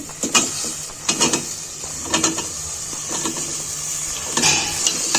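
New potatoes and cauliflower are tipped into cooked masala in a pan for a hilsa fish curry, making several loud clattering bursts and scrapes against the pan over a low background sizzle.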